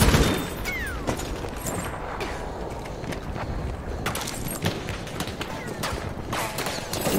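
Gunfire in Battlefield 1 crackles in dense, overlapping bursts through a busy multiplayer battle, with sharp repeated shots under a steady wash of combat noise and a voice talking over it.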